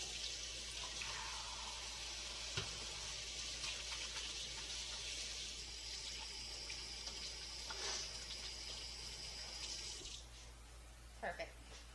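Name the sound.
rinsing hands under a running tap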